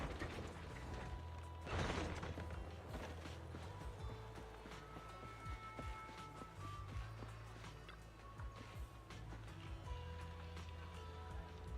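Elevator machinery in the video game Zenless Zone Zero: a steady mechanical rumble with clicking, ratcheting parts and a brief louder clank near the start, running continuously under a low hum.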